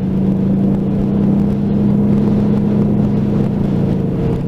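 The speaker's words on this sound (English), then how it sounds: "Now that fire tender up the front there, that's making as much noise as I'll do here" A fire tender idles close by, its engine giving a loud, steady, unbroken drone with a strong low hum for the whole stretch and no pauses.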